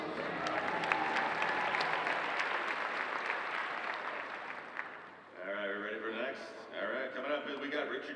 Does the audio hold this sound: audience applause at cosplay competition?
yes